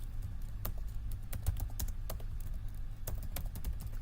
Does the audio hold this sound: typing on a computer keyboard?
yes